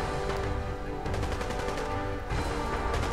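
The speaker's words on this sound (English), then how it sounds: "he is shooting hard." Enemy gunfire in Fallout 4 rattles in dense rapid bursts of shots, loud and continuous, with a brief break before another sustained volley near the end.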